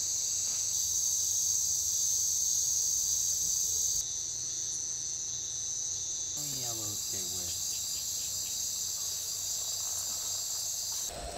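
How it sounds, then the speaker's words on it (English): Insects chirping at night in a Honduras forest around Las Marias, with a dense, continuous high-pitched cricket drone, steady and loud, joined midway by a faint pulsing insect trill. "The variety of insects is astonishing."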